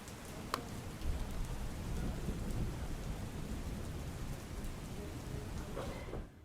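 Heavy monsoon rain in Anand, Gujarat pours down steadily while thunder rumbles low beneath it, with a sharp crack early on, before the sound drops away at the end.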